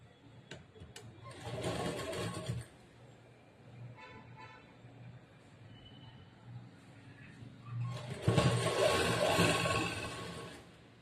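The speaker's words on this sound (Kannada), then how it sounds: "ಇವಾಗ ಇದನ್ನ ಸ್ಟಿಚ್ ಮಾಡ್ತೀನಿ" A sewing machine stitches a pavada langa blouse in two loud, steady whirring runs, with a quieter stretch between them where the motor eases off.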